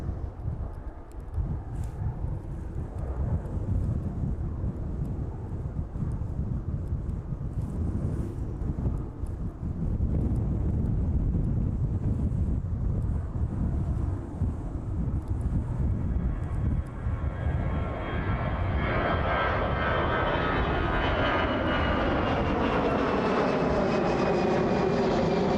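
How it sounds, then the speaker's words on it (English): Lauda Airbus A320 jet starting its takeoff roll on runway 27 at East Midlands Airport, a steady engine roar under wind buffeting that swells into a rising, whining turbine pitch as thrust builds, distant at first and growing louder. "let's see how well that Lauda A320 fares as it starts its takeoff roll now"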